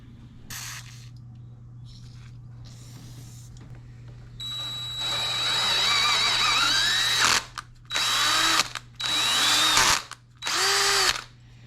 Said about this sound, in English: I find that a regular old drill is the best way to use for tapping.